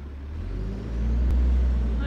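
A garbage truck pulling away, a heavy low engine rumble that swells as it accelerates, with a brief hiss partway through, fairly close and loud for about two seconds.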